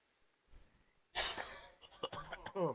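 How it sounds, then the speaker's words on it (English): A person coughs during a Red Dead Redemption 2 Online session, a sudden loud harsh burst after quiet breathing, followed by a few shorter rasping coughs and throat noises close to the microphone. "Oh, I'm sorry for my cough,"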